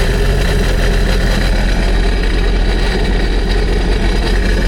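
A Sea-Doo RXT-X 325 personal watercraft engine running on its stock exhaust, a steady, loud, droning rumble that holds constant throughout with no talking.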